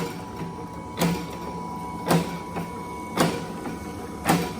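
Old Adkins power hacksaw running and cutting, its blade strokes landing as four evenly spaced rasping pulses about a second apart over a steady motor hum, close by.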